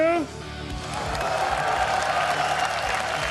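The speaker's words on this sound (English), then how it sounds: "I want to hear you cheer" A large esports event crowd cheers and applauds loudly and continuously, the roar swelling and holding steady after a brief voice at the start.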